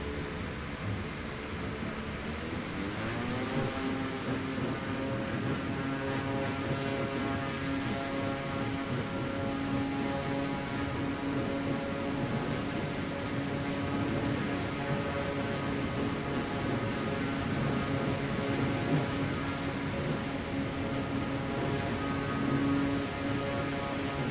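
An airplane takes off in Microsoft Flight Simulator 2020. The engine drone rises sharply in pitch after a few seconds, then holds as a loud, steady, continuous roar with no talking.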